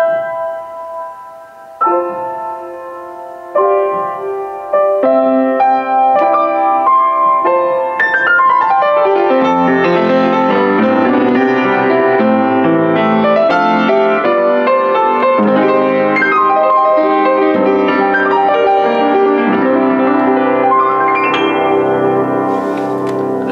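A Yamaha U3 upright piano, lid open, plays a flowing passage of chords and melody, bright and full with ringing harmonics, sustained and fairly loud throughout.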